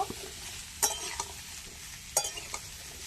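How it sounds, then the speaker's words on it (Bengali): Ridge gourd and potato pieces frying in a pan of oil with nigella seeds, a soft steady sizzle broken by a few sharp scraping strokes of a spatula, close and fairly quiet with no voices. "ঝিঙে একটু ভাজা করে নেব।"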